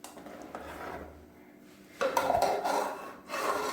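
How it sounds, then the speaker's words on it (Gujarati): A spoon scraping and stirring white Gujarati kadhi in a metal pot, with soft rubbing strokes that grow louder in the second half, close and alone. "અને કઢીને છે એ પ્રોપર મિક્સ કરી દેવાની છે।"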